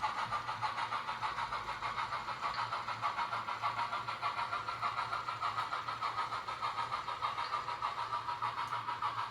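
An HO scale Broadway Limited Imports Southern Pacific GS4 model locomotive in black runs under load, pulling a string of cars with a faint, steady rhythmic motor chuff and hum.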